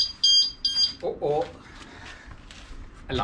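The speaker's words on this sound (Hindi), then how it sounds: "Alarm went of." A smoke alarm gives two sharp, high-pitched beeps in quick succession near the start, then voices talk indoors with a short tonal blip toward the end.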